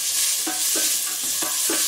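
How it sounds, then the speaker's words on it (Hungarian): Leeks and onions sizzle steadily in a pot while a utensil stirs them, giving a constant frying hiss with a soft scraping stroke about every quarter second. "És akkor beleteszem a hagymákat, poréhagyma. És fokozatosan keverem hozzá."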